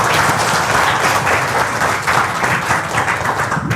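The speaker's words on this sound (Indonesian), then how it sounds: "Asik. Tepuk tangan." Audience applause at an indoor product presentation, a dense steady wash of clapping held loud and unbroken for about four seconds with no talk over it.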